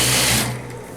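A sewing machine runs steadily at close range, stitching the seam of a French-cut dress, then its whir eases off about halfway through into a quieter hum.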